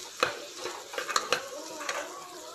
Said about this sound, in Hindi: मैंने 1/2 टमाटर डाल दिया है